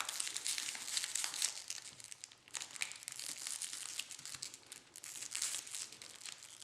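Soft crinkling and rustling of cardstock being gently pulled and handled while a ribbon is tied on a party favor, quiet and close, continuous with small irregular bursts.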